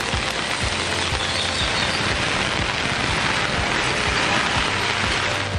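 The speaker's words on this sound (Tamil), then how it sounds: "நாகை மாவட்டத்தில் புத்தூர், சிக்கல், ஆடியூர், தேவூர் உள்ளிட்ட பகுதிகளில் மழை கொட்டியது." Heavy rain pours down in Nagapattinam district, Tamil Nadu: a dense, steady, loud hiss of downpour with scattered patters of drops and no letup.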